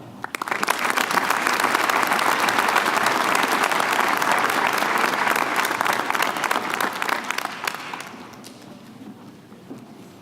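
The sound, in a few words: audience applauding graduates at commencement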